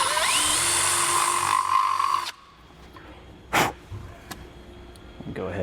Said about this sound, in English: Just going to take a little bit bigger of a drill bit.